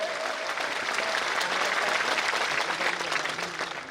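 A crowd at a political gathering claps loudly and steadily, a dense continuous wash of applause that holds at full strength for a few seconds before easing slightly at the end.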